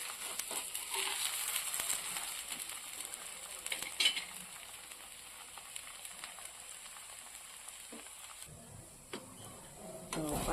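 A potato cheese chilla roasts in oil on a pan while it is turned over, giving a soft, steady sizzle with scattered light scraping and clicking.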